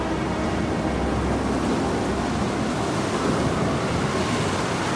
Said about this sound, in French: Tu peux faire cesser le vent.